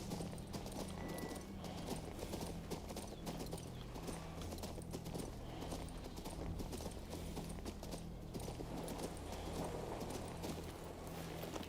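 Hooves clip-clop in a steady trotting rhythm in the video game King's Bounty II, moderately close, over a constant low rumble of game background sound.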